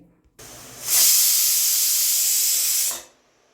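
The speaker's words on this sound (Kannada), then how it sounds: "ಕುಕ್ಕರ್ ಐದು ಸೀಟಿ ಆಗ್ಯದೀಗ" A pressure cooker on a stove vents a loud, steady hiss of steam that swells up quickly, holds for about two seconds, then cuts off sharply.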